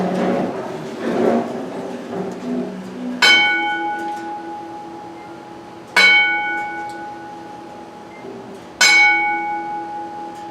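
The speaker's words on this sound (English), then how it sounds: "Let's start bell man, if you would, very slowly, to give us a 10 bell count" A bell is struck slowly for a ten-bell count at a wrestlers' reunion ceremony. Three loud strikes land about three seconds apart, each ringing out and fading over a low room hum.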